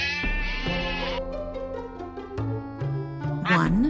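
Sheep bleating in a few distinct, wavering calls one after another, close and clear, with a brief higher cry near the end.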